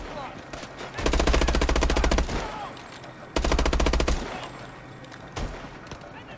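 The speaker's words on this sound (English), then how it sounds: "I'm getting shot as soon as I spawn" Gunfire strikes the player right after spawning in Call of Duty Advanced Warfare: two loud, sustained bursts of rapid automatic fire, separated by a short lull, with faint game noise between them.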